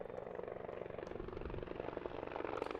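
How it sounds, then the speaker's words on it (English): Low, pulsing rotor thump of a helicopter circling overhead at a high school baseball game, fairly faint and distant, holding steady throughout with no voices. "as you can hear, the helicopter is indeed still circling"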